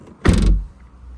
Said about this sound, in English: bring down the Lamborghini style doors